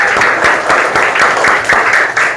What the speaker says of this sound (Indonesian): ayo kasih tepuk tangan untuk kelompok 1.